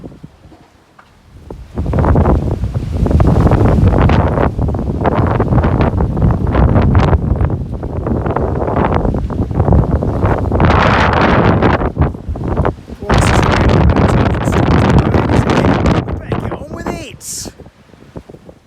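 Loud gusts of stormy wind batter the microphone in heavy bursts beside a Citroen C25-based Hymer 564 camper van, rising and falling, with a voice speaking underneath at times.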